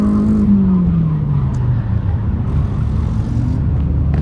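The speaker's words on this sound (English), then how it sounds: "Just a regular 5-liter Mustang." Loud, close 5-liter Ford Mustang V8 at a drift event, a steady deep rumble whose pitch falls slowly as the car settles, with a continuous engine drone throughout.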